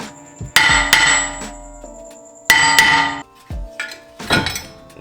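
Heavy metallic hammer blows on a seized brake rotor ring out in a few clustered bursts, each strike clanging loudly with a lingering metallic ring, close by with no talking.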